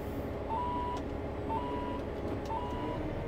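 A reversing vehicle's beeper sounds three evenly spaced tones about a second apart over a low, steady engine rumble as it backs out uphill.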